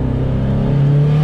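A 500HP Subaru pulls hard in third gear under boost, a loud sustained engine drone that climbs in pitch as it accelerates, heard close from inside the car with no talk.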